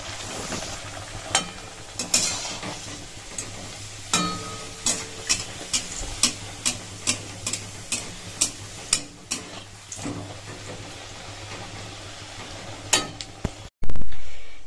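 Luchi frying in hot oil in a kadai: a steady close sizzle punctuated by a regular series of sharp clicks and taps, ending in a sudden louder burst.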